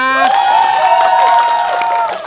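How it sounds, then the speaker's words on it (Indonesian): A live crowd at a year-end automotive event cheers and shouts loudly throughout, with a sustained, dense roar of voices and some applause; a prominent high-pitched voice or whistle-like tone rides over the noise. "Buat Adit nih, tepuk tangannya mana?"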